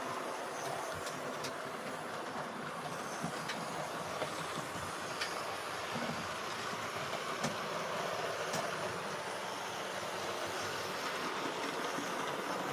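A Hornby R2203 Kingfisher OO gauge model locomotive with tender drive runs along a shelf layout, giving a steady continuous rolling rumble with faint rhythmic rail clicks throughout, close and even, with no speech.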